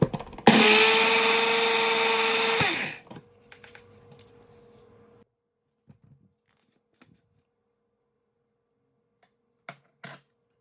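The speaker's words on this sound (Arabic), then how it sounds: "راه كاع هادشي اللي خدمته طحنته في المولينكس" A Moulinex electric grinder whirs loudly and steadily for about two seconds while grinding roasted sellou ingredients, then spins down. Faint clinks and taps follow in near silence.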